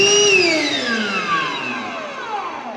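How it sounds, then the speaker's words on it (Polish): A cordless battery vacuum cleaner used by a plumber on a job site runs steadily with a high motor whine and falling tones, loud and close throughout with no talking. "tu mam odkurzacz na akumulator."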